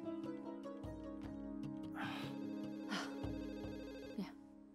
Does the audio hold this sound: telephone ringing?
yes